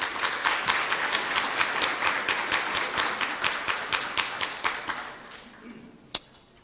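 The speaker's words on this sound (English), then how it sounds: "give each and every single one of us in this room a round of applause" Conference audience at a competition law, economics and policy event giving a sustained round of applause, dense clapping that thins out and stops, ending with one last isolated clap.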